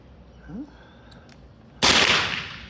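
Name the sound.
M16A1 (AR15) rifle firing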